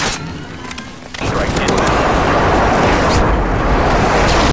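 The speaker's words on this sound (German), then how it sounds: "ein Anruf und ein Kampfjet wie das hier legt gleich mal ein ganzes Gebiet in Schutt und Asche" A fighter jet airstrike bombing an area in GTA Online: a quieter crackle of distant fire, then a sudden roaring wall of explosions and rapid blasts that stays loud and dense until it cuts off abruptly.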